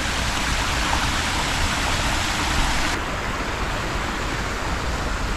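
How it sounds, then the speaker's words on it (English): A garden waterfall gushes in a constant, dense rush of falling water, loud and near, holding steady from start to finish with a slight change in tone partway through. "What a beautiful waterfall."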